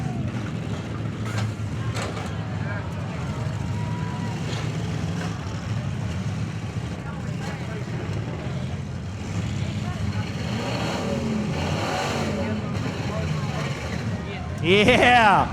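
A demolition derby car at a county fair event in Ohio, its engine revving hard and continuously with a rough, loud drone and a surge near the end, under a commentator's voice and crowd noise.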